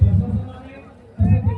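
A crowd gathered at Karla fort for the Ekvira Aai palkhi procession, a murmuring hubbub of many voices, with talk close by.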